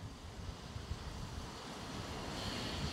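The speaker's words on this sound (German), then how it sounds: "und chillen hier an diesem schönen Strand." Waves washing onto a beach in Thailand, a soft, steady surf wash mixed with wind rumble on the microphone, faint and continuous without any talk.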